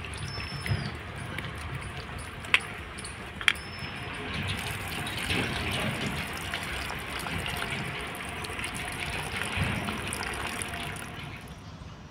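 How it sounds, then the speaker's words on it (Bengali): Cut cauliflower florets are washed under running water, a continuous close trickle and splash with a couple of sharp clinks against a vessel, and no talking. "এবার আমি পরিষ্কার করে জল দিয়ে ধুয়ে নেব।"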